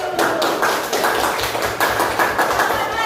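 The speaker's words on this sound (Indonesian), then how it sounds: "tepuk tangan untuk nomor 1" A classroom group claps for contestant number one, a quick dense patter of hand claps at close range that rises and falls in a few bursts over about three seconds.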